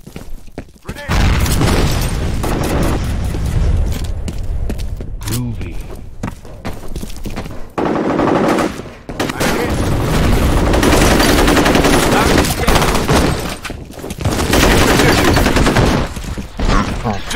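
A grenade blast and heavy gunfire in F.E.A.R. combat, with loud, sustained bursts of rapid shots and booms broken by brief gaps, and shouting voices mixed in.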